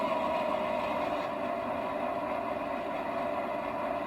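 USA Trains GP-38 model diesel locomotive idling through a Zimo MS950 sound decoder, a steady, moderately quiet engine drone with a low throbbing rumble, unchanging throughout.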